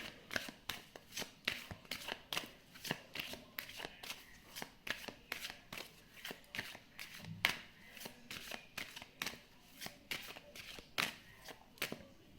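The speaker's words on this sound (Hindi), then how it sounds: "मैं यहाँ पर आपके लिए कार्ड्स चेक करूँगी लॉर्ड कृष्ण की तरफ से" Tarot cards being shuffled for a reading, a steady run of quick, close riffling bursts repeating in a regular rhythm, fairly soft, with no voice over them.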